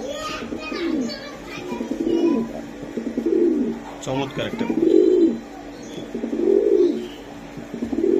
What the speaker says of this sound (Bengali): এই যে একটু ডাকটা দেখানোর জন্য একটা কবুতর দেওয়া হয়েছে আপনাদেরকে